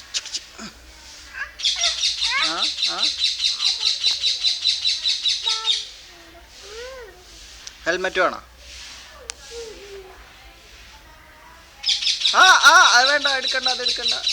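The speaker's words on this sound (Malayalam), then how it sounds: "തത്തമ്മ കരയിന്." A parrot calls near a parked vehicle, giving repeated shrill chirps and squawks in bursts with pauses between, loud and close, while people talk over and between the calls.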